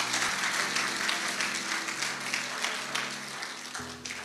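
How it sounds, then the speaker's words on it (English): A church camp-meeting audience applauds during a sermon, a dense, steady wash of many hands clapping that holds for about four seconds without anyone speaking over it. "Yes, you can clap."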